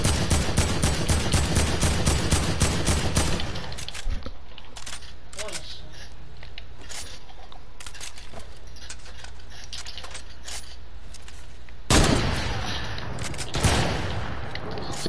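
AK rifle fire in a video game, a rapid burst of dense automatic shots for the first few seconds, then quieter scattered clicks before another short loud burst near the end.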